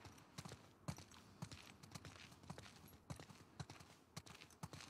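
Horse hooves clip-clop at a walking pace in The Last of Us Part II, a quiet, uneven series of soft knocks under faint game ambience.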